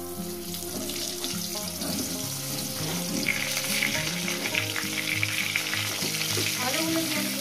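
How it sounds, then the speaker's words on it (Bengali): Potatoes frying in hot mustard-style oil with black cumin seeds, salt and turmeric, a steady loud sizzle with scattered crackles and stirring clatter running throughout, no voices. "আলুগুলো দিয়ে সুন্দর করে লাল লাল করে ভেজে নেব।"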